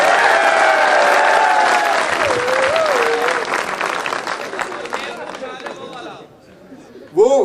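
Audience applause at an alumni reunion and spring festival cultural day in Multan, a loud sustained crowd clapping with chatter and a voice over it, fading out toward the end.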